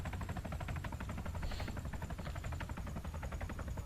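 Helicopter engine and rotor in the Arma 3 video game, a steady loud thrumming drone with rapid rotor pulsing throughout, as the aircraft powers up to lift off.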